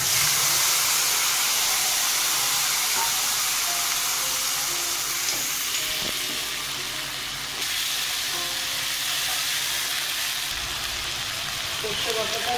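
Mustard spice paste dropped into hot oil for a mustard katla fish curry: a loud, continuous frying hiss that dips slightly midway before rising again.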